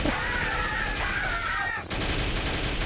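Rapid gunfire in the video game MDK 2, a dense continuous burst of shooting that fills the clip alongside game sound effects, then cuts off briefly before resuming.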